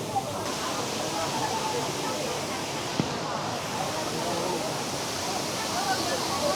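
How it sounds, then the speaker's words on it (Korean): Huangguoshu Waterfall in Guizhou, China, roars as a dense, constant rush of water, loud and steady throughout, with a single faint click partway through. "대단한 폭포입니다."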